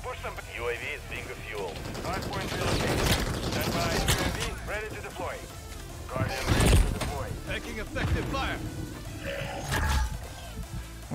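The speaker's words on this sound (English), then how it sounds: "Who's shooting?" Rapid gunfire and bursts of automatic weapons in the multiplayer shooter Modern Warfare 3, clattering in uneven volleys with loud crashes, under excited talk from players.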